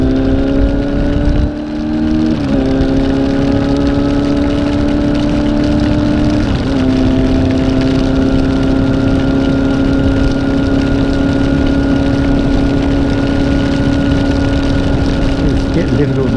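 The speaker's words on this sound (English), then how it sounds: "Raining pretty heavy." A motorcycle engine drones steadily while riding through heavy rain, its pitch shifting as gears change, with a constant hiss of rain and wind around it.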